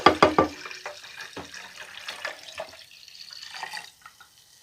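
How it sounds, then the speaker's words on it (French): A litre of wine poured into a container for homemade lemon wine, a brief burst of splashing liquid at the start that fades into softer trickling and drips, close and alone. "j'ajoute un autre litre de vin"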